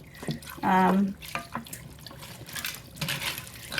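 Broth is poured over pasta in a pot for a one-pot dinner, giving a short splashing pour that rises then trickles off, close and fairly quiet.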